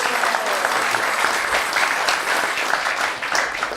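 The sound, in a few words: audience applause for Vaishnav Prabhu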